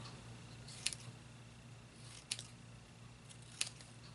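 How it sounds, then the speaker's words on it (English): Scissors snip through paper strips for a homemade dominoes set, three sharp separate cuts about a second and a half apart against a quiet background hum. "just cut these in some strips here. And then we are going to simply cut these."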